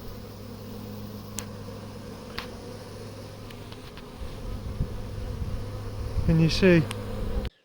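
Honeybees swarm around a beehive that has just been moved, giving a steady insect drone throughout that swells louder and closer near the end, with a brief spoken question over it.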